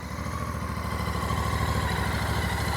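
A like-new 2025 Royal Enfield Bear 650 motorcycle idles steadily just after starting, its smooth, even engine pulse close and constant with no one talking.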